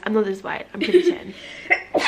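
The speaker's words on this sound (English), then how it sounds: "Did you sneeze?" People chatter and laugh, then a single sharp sneeze bursts out near the very end, close and fairly loud.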